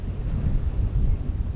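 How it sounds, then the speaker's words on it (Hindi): Strong wind blowing at Sukhna Lake in Chandigarh, a loud rumbling buffet against the microphone that swells and dips in gusts throughout. "हवा चल रही है बहुत तेज़"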